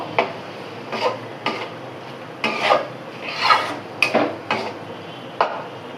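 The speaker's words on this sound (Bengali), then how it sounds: "এখন শুধু নেড়ে চেড়ে আমি হচ্ছে একটা পুর তৈরি করে নেব।" Coconut filling stirred in a pan for milk puli pitha, a spatula scraping and rasping against the metal in about ten separate close strokes with brief pauses between them.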